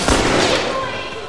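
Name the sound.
gunshot from video game The Last of Us Remastered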